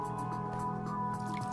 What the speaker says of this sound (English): if you're gonna pour a cup of noodles into something else